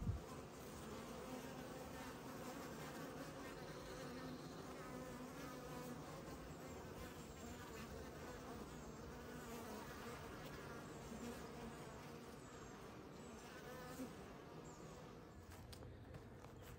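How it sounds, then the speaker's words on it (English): Bees, a small swarm in a beehive, buzzing as a continuous, fairly faint and steady drone throughout, with no voices. "it might have attracted a small swarm that came into this particular hive"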